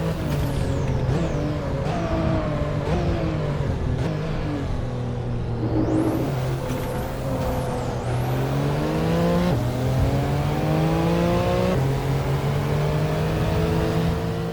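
A TECHART GTstreet R, an 800hp tuned Porsche 992 Turbo S, driven hard in Assetto Corsa, its engine droning and rising through the revs with sharp drops at gear shifts, loud and continuous from start to end.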